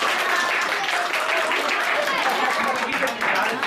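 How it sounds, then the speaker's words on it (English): An audience at a Bhagavad Gita prize distribution breaks into dense, sustained applause, a continuous wash of many hands clapping at full strength throughout, with voices blended into the crowd noise. "Okay, first give a clap to all."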